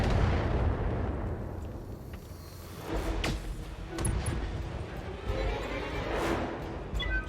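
Heavy mech weaponry firing in BattleTech, a Gauss rifle among the volley, booming artillery-like blasts with sharp cracks and rumbling bursts repeating over several seconds, loud and close.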